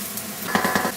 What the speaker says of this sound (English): Carefully clean the frying pan with a paper towel and dump the onions on.